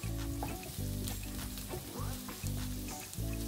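Steady sizzling of vegetables frying in a pan for meatball soup, with scraping stirs at regular intervals and faint background music underneath.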